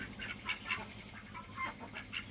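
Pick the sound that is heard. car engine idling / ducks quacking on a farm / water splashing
ducks quacking on a farm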